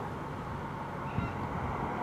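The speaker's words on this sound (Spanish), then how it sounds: "Esas son guacamayas australianas, son grandísimas, son como un loro real." Wild Australian cockatoo at Airlie Beach calling, a harsh raucous honking screech heard faintly against loud, steady outdoor wind or rumble that nearly masks it.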